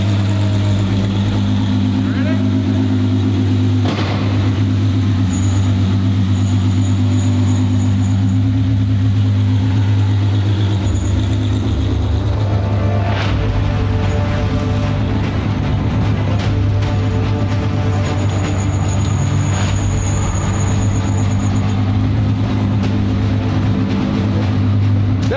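A twin-turbo V12 Ferrari engine and exhaust hold a loud, steady drone that breaks into rising revs and throttle blips midway, close and continuous throughout the stretch.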